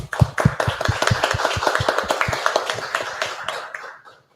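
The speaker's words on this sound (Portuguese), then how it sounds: "para o professor Celso Brandão, um grande aplauso e nos parabéns." At the opening ceremony of an academic congress, an audience applauds an honoured professor with distinct, sharp individual claps in a quick irregular rhythm, thinning out and fading to silence near the end.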